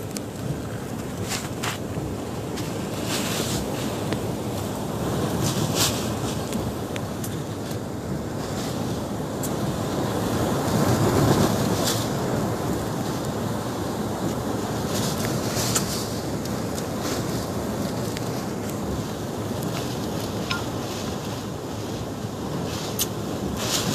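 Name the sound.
strong typhoon wind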